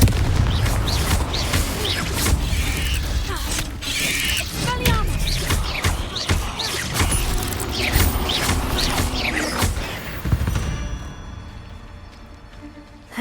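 A Confringo fire spell from the Hogwarts Legacy video game lets loose a run of booming, crackling blasts and mechanical clatter over about ten seconds, loud and busy with no voices, then fades away.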